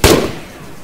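One sharp, loud gunshot in the Arma 3 military shooter cracks up close, then a short echoing tail fades away.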